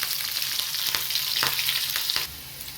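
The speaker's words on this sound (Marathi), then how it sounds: "तर लसण मिरच्या आणि ही अशी डाळ आहे ना उडदाची आणि हरभऱ्याची अशी लाल होईपर्यंत" Garlic, green chillies, and urad and chana dal fry in hot oil in a pan, sizzling continuously up close with a few soft stirring scrapes.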